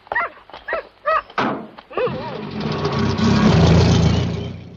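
Dogs bark in a 1972 horror film, several sharp barks in quick succession followed by a loud, sustained rumbling noise.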